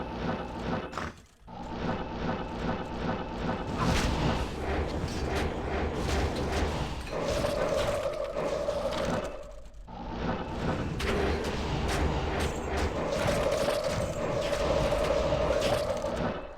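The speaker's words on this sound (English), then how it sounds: "it takes a lot more corpse explosions to take them out" Repeated corpse explosions in Diablo 2 fighting fire-resistant monsters: dense bursts of booming blasts and crunchy impact noise go on almost continuously, with a brief lull and short sustained tonal spell effects mixed in.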